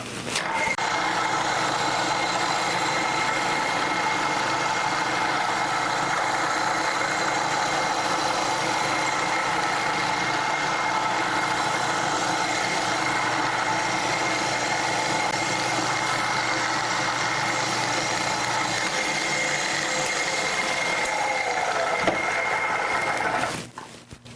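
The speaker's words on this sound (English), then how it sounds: "So let's fire up the mill and speed up that end mill a little bit" A Tree 2UVR milling machine runs with an end mill spinning, giving a steady, even motor hum and whine that holds constant before cutting off abruptly at the end.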